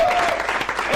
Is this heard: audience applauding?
yes